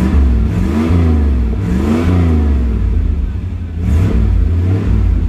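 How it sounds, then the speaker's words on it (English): A car engine fitted with a Flowmaster exhaust revs up close by in repeated swelling bursts, deep and loud, settling back to a rumbling idle between the revs. "Let's see if I can rev it up a little bit."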